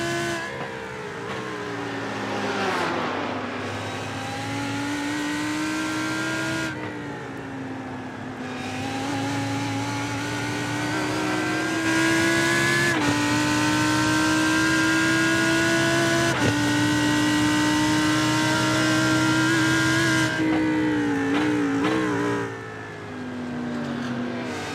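A Lamborghini race car in a sim racing game, its engine holding a loud, steady high-revving whine that climbs and drops through gear changes over about twenty-five seconds, with no talking.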